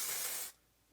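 A single short burst of hair spray hisses from a can onto hair for about half a second, close and fairly soft, then cuts off to near silence.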